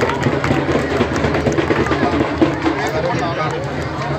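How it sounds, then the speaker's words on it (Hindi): Church congregation at a Palm Sunday gathering in Lahore clapping loudly and continuously in a dense patter, with voices and crowd murmur mixed throughout. "जोरदार क्लैपिंग करें।"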